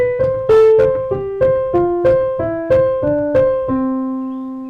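Piano notes in C descending the solfege scale from high do to low do, swinging back up to high do between each step, played as a steady sequence of separate plucked tones with no singing or talk.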